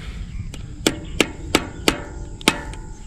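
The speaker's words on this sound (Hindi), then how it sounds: "अरे स्पैनर से ठोक ना उसका" Sharp metallic taps of a spanner striking a bicycle chain tool while repairing a chain after a broken rear derailleur hanger, about six distinct hits spaced roughly a third of a second apart over a low background hum.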